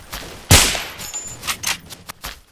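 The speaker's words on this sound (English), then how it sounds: "stop shooting me." Gunfire in the first-person shooter Blockade 3D on the Dead City map: one loud, close shot burst, followed by several fainter shots spaced irregularly.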